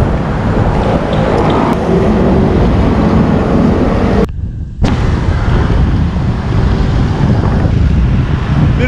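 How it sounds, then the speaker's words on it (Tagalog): Strong wind buffets the microphone in a continuous loud roar, briefly dropping out for a moment before the gusting resumes. "Lakas ng hangin, sir."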